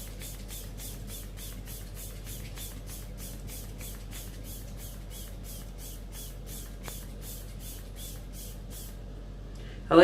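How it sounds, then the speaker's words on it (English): A makeup finishing spray gives a long run of rapid, evenly spaced hissing spritzes, about two dozen in a row, close and fairly quiet over a low steady background hum. "Then I'm going to finish with the finishing spray."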